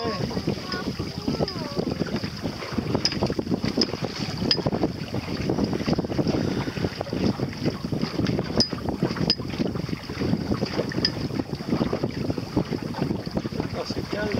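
Wind and water rush steadily around a Pacer 2 sailboat under sail in Morlaix Bay off Carantec, a continuous broadband roar of gusts buffeting the microphone with hull wash beneath, no pause throughout.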